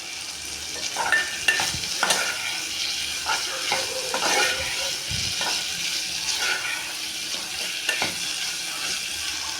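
Egg white masala frying in a pan sizzles steadily while a spoon scrapes and clinks through it in irregular strokes, close by and continuous, with no talking.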